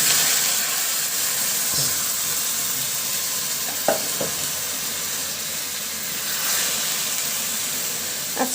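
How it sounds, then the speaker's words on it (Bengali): Rice and lentils for khichuri tipped into onions fried until reddish-brown, giving a steady sizzling hiss with a few brief clinks and stirring knocks; no voices are heard. "এই যে এর ভিতরে দিয়ে দিব আমি খিচুড়ির চাল ডাল।"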